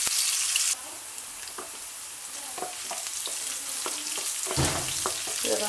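Chopped onions and green chillies fry in a pan with a continuous close sizzle, broken by occasional scraping and stirring knocks.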